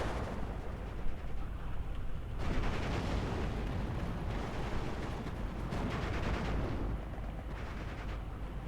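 Mortar fire in a strategy video game: dull, repeated booms and rolling battle rumble that swell and ease over several seconds, fairly faint and with no talking.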